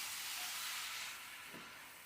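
Jamaican curry chicken searing in a pot while being stirred, a loud broad sizzle and hiss that eases slightly, with a soft scrape of the stir near the end.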